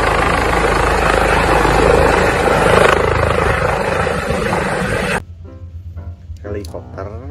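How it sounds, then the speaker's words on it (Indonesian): A toy helicopter sound effect roars with a loud whirring, buzzing rotor noise for about five seconds, then cuts off abruptly, leaving quieter handling sounds. "Lihat teman-teman, ada helikopter."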